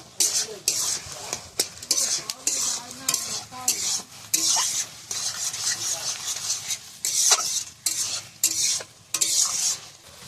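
Shrimp frying in a pan over a wood-fired village stove, with steady sizzling broken by repeated scraping stirs of a utensil against the pan, close and fairly loud, occasional clinks of metal.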